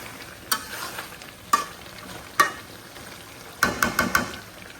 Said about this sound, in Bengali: এখন সুন্দর করে লাইড়ে নিলাম, নেড়ে চেড়ে নিলাম।